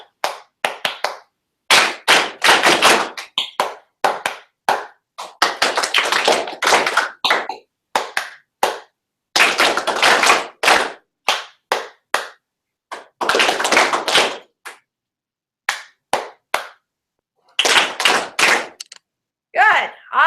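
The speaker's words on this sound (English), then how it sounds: "So when I clap a rhythm, you repeat it and look at me." Sharp hand claps rap out short rhythmic patterns that are then echoed back in call-and-response, groups of quick crisp claps separated by brief silences, close and loud.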